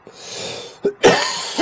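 A person coughs close by, a few rough, throaty bursts: a long breathy hack, a short sharp cough, then a heavier one, with no talk.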